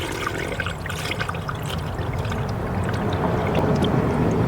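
Coolant pouring and bubbling into the radiator of a Dodge Durango during a thermostat replacement, a close, steady gurgling trickle of liquid that swells slightly louder toward the end.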